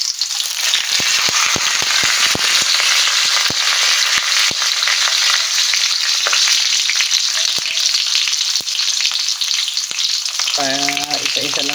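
Fish sizzles and crackles loudly in hot oil in a pan lined with leaves, a dense, steady frying hiss with scattered pops, ending with a short tonal beep.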